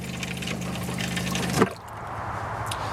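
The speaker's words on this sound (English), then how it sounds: "when it's time to flush, you just pull the lever on the side, and the water goes down and you can hear the pump pumping the water" A campervan toilet flushes during a Canadian winter as its electric water pump runs, a steady whirring hum with rushing water that stops abruptly partway through, leaving a quieter trickle and gurgle up close.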